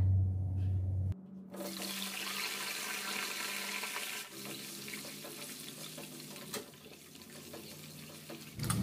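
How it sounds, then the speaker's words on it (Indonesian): Boiled eggs sizzle and crackle steadily in hot oil, a continuous frying hiss with occasional pops and a low hum at the start and end. "Setelah itu saya mau menggoreng telur rebusnya sebentar saja."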